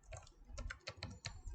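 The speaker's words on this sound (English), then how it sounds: "let's try typing a few things out here" Steady typing on a computer keyboard while code is entered into a Jupyter notebook cell, with irregular clusters of close, crisp key clicks and no voices.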